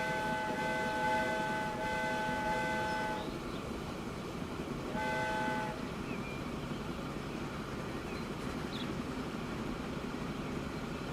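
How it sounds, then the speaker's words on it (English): A steam-style train whistle from a locomotive in the railway-building game Transport Fever 2 sounds in two long, loud blasts, the second one shorter, over steady rumbling train noise. "I can do the whistle. Can you hear the whistle?"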